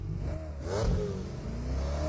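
A car in the video game PUBG Mobile revs and accelerates away, a mid-pitched hum rising in pitch, fairly faint and steady with a slight clatter.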